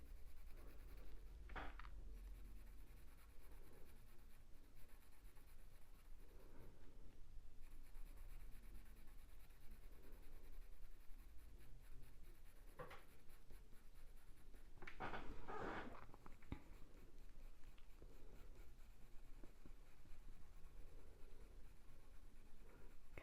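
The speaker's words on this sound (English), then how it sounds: "I'm just doing short back and forward marks with a pencil" A pencil scratches short back-and-forth strokes on paper while colouring in a mallard drake drawing, faint and soft with a few louder bursts of scribbling over quiet background hiss.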